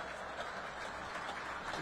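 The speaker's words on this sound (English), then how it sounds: "The applause you can hear now is we've hit the 19th minute in memory of Noah Brown." A football crowd at an FC Halifax Town versus Wrexham match applauding in the 19th minute in memory of Noah Brown, a steady, distant wash of clapping with no breaks.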